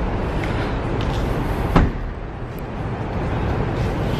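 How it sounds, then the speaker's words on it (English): A single soft thump as the tailgate of a 2017 Mercedes-Benz C 300 4MATIC opens outdoors, brief and fairly close, set against a steady wash of background noise. "Open up the tailgate"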